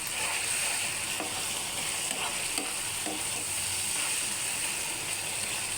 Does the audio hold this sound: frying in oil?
yes